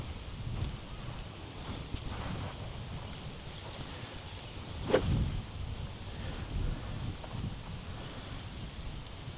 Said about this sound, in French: Il y a du vent quand même.